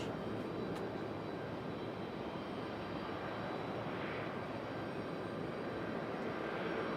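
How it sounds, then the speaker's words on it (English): A Cessna Grand Caravan UPS cargo plane at Raleigh-Durham International Airport gives a steady, broad engine roar that holds evenly from start to finish at moderate distance, with no talking. "It's our Cessna Cessna. Grand Caravan for UPS."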